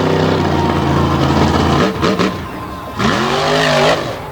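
A black and green Ford monster truck from Bethesda, Maryland roars through wheelies on the Beckley track, its engine loud and close, revving high, then briefly dropping before surging again with a rising pitch.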